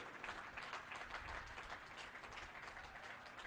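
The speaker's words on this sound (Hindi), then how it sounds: "यहां से वहां तक सारे कार्यकर्ता मिलकर के जोरदार तालियों से आपका अभिनंदन करें" Party workers at the inauguration of a new BJP Delhi state office applaud together, a dense continuous patter of many hands, steady and somewhat distant, without voices.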